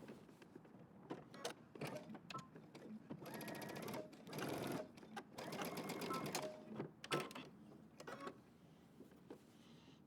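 A sewing machine topstitches one more row along the edge of a denim jacket, running in several close, rapid stitching bursts with brief pauses between them, with only a faint voice.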